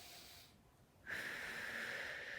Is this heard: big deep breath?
yes